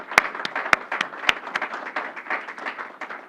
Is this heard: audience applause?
yes